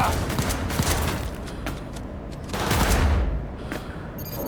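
Bursts of automatic gunfire ring out in a Cyberpunk 2077 firefight, rapid shots layered over a dense wash of combat noise.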